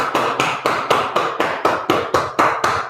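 Hands tap rhythmically on the backs of the knees during a lymphatic wake-up routine, about a dozen crisp, evenly spaced pats close up, with no talking.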